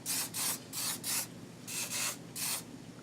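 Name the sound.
Ion humidity resistant medium hold hair spray being sprayed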